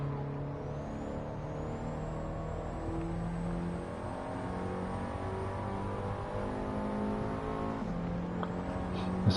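Race car engine in Gran Turismo 7 droning steadily throughout, with layered harmonic engine tones and a shift in pitch near the end, loud and continuous with no voices.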